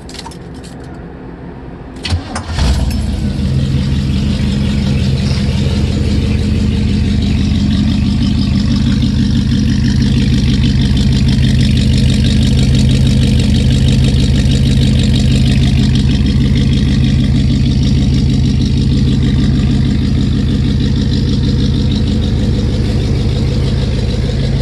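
A small-block V8 engine in a 1930 Ford Sedan Delivery cranks and catches, then settles into a loud, steady idle with a lumpy, rhythmic rumble throughout.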